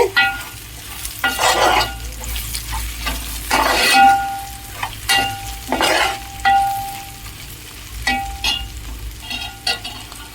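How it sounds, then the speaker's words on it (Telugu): Ivy gourds (dondakaya) frying in a pan: steady sizzling with intermittent scraping stirs and clinks of a spoon against the pan, close and moderately loud, no talking. "చూడండి, దొండకాయలు వేగుతూ ఉన్నాయి"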